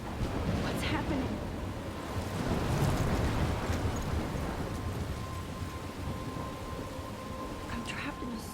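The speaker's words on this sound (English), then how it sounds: "I'm trapped in a storm?" A video game storm howls with steady wind, rain and crashing waves, a dense continuous roar that swells slightly then settles, with faint creaks on top.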